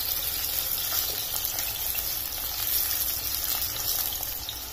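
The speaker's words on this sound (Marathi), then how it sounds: "हे कारले थोडेसे फ्राय करून घ्यायचे" Boiled bitter gourd (karela) frying in a little hot oil gives a steady, close hiss and sizzle that runs throughout without talk.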